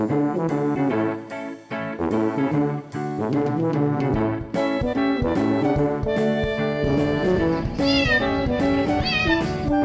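A kitten meows again and again, its high, clear calls close and loud in quick, uneven succession, sometimes overlapping, with no speech.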